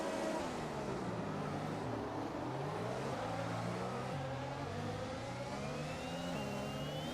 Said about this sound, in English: We still get a little bit of wheel spin.